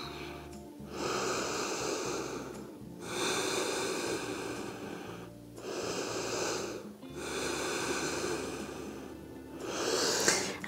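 Slow, audible breaths during a yoga forward-fold pose, legs half-bent and back relaxed, with long drawn inhales and exhales alternating with short pauses, close and fairly loud.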